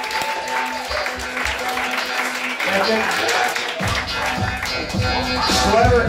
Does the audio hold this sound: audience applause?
yes